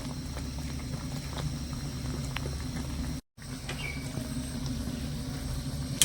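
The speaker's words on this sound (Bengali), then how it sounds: "এই মিষ্টিগুলো আজকে আমি একটুখানি সেদ্ধ করে নেব এই চিনি শিয়ার মধ্যে" Fried flour sweets simmer in sugar syrup in a pan on the stove, giving a continuous soft bubbling and popping texture, close and even, with one brief cut-out midway.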